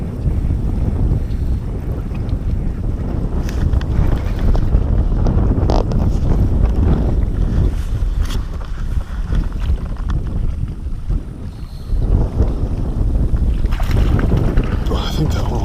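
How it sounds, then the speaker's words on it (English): Strong wind buffets the microphone with a loud, continuous roar and gusts while kayak fishing on a Nebraska lake, and a voice is partly heard under the rumbling wind. "This wind is insane, man. This wind is nuts."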